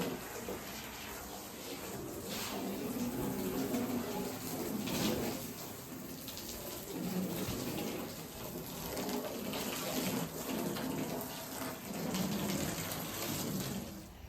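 Water running from a tap to soak items for cleaning after a shooting session, a continuous rushing splash with gentle fluctuations, close and fairly quiet, no talking.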